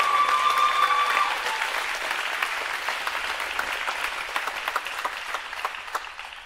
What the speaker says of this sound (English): Let's give them also a loud applause